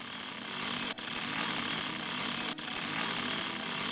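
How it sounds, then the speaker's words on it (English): A loud, continuous mechanical drill operated by dwarfs in the point-and-click adventure game Simon the Sorcerer roars steadily and harshly, with two brief dropouts in the noise. "It's one of those really noisy frames, isn't it, with the drill? The drill from the dwarfs."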